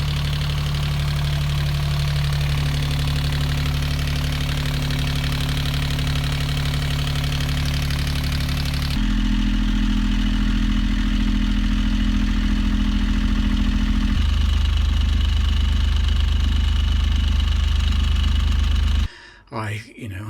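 The inboard diesel engine of a Moody 31 Mk 2 sailboat runs with excess noise. A loud, steady drone with a knocking quality shifts in tone twice as the listening spot changes, then cuts off abruptly near the end.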